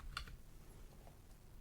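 Typing on a computer keyboard, a few light, quiet key clicks spread over a moment, with a sharper tap near the start and soft taps after.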